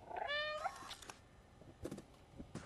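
Cat in the video game Stray gives one clear, drawn-out meow up close, followed by faint soft game sounds in the background.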